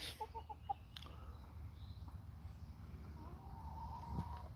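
Several chickens clucking softly in a backyard flock, a few short clucks early on, then a steady low murmur of the birds against background noise.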